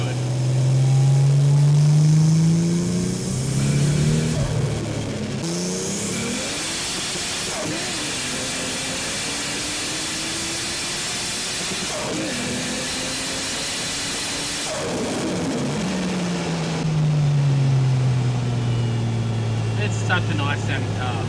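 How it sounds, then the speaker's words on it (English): A Toyota JZX car with an Apexi exhaust revs its engine in repeated rising and falling sweeps, loud and near, with hiss between the pulls and a person talking over parts of it. "Such a nice sounding car, makes me so happy."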